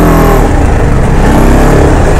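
A motorbike engine runs loud and close while the bike is brought in to park near a field, a steady continuous drone with slight revving and no talking.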